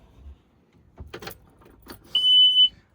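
A single high, steady electronic beep from a 2021 Chaparral 21SSi boat's alarm sounds for about half a second after a few soft clicks and rustles.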